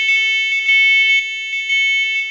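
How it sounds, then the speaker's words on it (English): Loud, continuous electronic alarm tones from interconnected household smoke alarms sounding together, a steady high-pitched shriek pulsing in regular bursts with no voices. "When one alarm goes off, usually the one closest to the fire, all the alarms sound."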